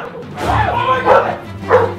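A dog gives several close, loud barks and yips in quick succession, mixed with a voice.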